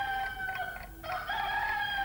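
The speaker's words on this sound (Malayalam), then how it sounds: "മതി കോഴി കൂവിയത്." A rooster crows near and loud in one sustained call, with a brief break partway through.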